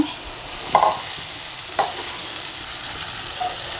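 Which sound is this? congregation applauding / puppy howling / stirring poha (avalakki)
stirring poha (avalakki)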